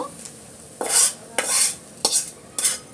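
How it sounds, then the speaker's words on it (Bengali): An egg and onion tempering stirred through a pot of dal gives four scraping, swishing stirs in a steady rhythm, with a light sizzle underneath. "ডিম আর পেঁয়াজটা ঢেলে বাগার দিয়ে নিচ্ছি। নেড়ে চেড়ে সুন্দর মতো মিক্স করে নিচ্ছি আমি।"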